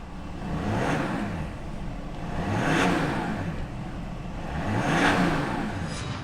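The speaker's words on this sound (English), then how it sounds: "Comes with a nice V6 engine, so you've got a bit of a grunt and a purr" The V6 engine of a Mercedes GLE 43 revs in three swelling pushes, rising and falling in a loud, throaty growl over a steady whirring hum.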